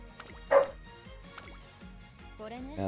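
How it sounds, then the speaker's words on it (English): Dogs bark in a short yip over music from a horse-racing game, one loud bark standing out among fainter yelps and whimpers. "The dogs coming in."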